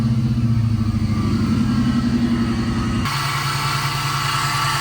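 A BMW car with an LS engine swap idles steadily nearby, a low rumbling drone with a slight change in tone partway through, no voices.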